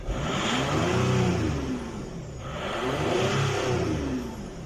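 A VAG 2.5 TDI diesel engine with a faulty injection pump, running after a start, revving up and down in two broad swells, close and fairly loud, with no talk over it.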